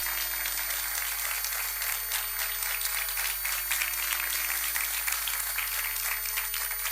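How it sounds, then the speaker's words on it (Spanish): Steady audience applause greeting a conference speaker at a lecture event, an even wash of distant clapping throughout with a low constant hum underneath. "pido que recibáis, como se merece, con un fuerte aplauso a David Parcerisa"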